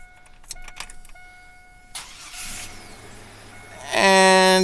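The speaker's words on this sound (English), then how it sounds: "we stick it in the steering wheel" Old key sliding into the steering column ignition of a 1999 Chevy Blazer, with a few small metallic clicks and jingles up close, then a louder buzzing chime tone sounding near the end.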